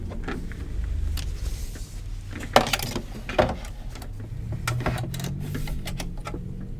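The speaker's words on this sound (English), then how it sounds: "I'm going to switch to the sewing machine again." A sewing machine runs steadily, stitching with a low mechanical hum and rapid ticking, punctuated by a few sharper clicks and taps.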